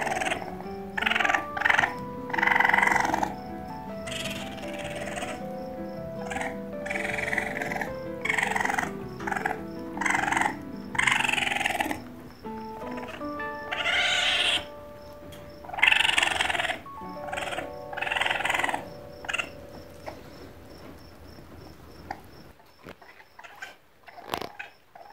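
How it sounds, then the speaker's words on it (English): Baby raccoons chittering and churring almost without pause, a close run of short rapid bursts and trills that grow quieter before briefly fading out near the end. "this is the noise baby raccoons make, and they make it constantly"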